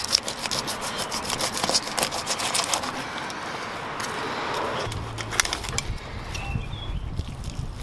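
A knife fillets a musselcracker fish along the backbone, making close, rasping scrapes and wet cuts in uneven strokes.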